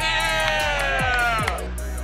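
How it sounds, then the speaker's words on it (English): A golf crowd at a LIV tournament in Chicago cheers and whoops loudly and continuously for Bryson DeChambeau's win, with shouts and a whistle cutting through the roar. "And as he began that journey, the crowd showed their support."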